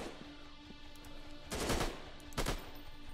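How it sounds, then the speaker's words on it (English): Gunfire from a soldier shooting in a zombie video game, two short bursts of rapid shots at moderate distance over a quiet, humming background. "Hey, my soldier's up there shooting stuff."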